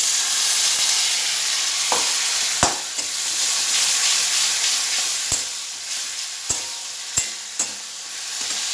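Prawns fry in a ginger and tomato paste with a loud, steady sizzle, punctuated by several sharp spatula knocks against the pan at irregular intervals.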